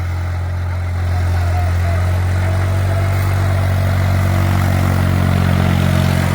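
A Holland 3630 Super Plus tractor's engine drones steadily in a field, low and close, rising slightly in level after the first second.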